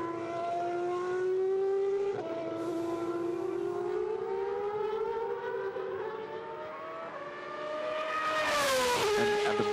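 Superleague Formula single-seater race cars circle on warm-up laps before a qualifying lap in Round 2, a steady high engine whine rising and falling in pitch through gear changes, loud and close throughout with no voices.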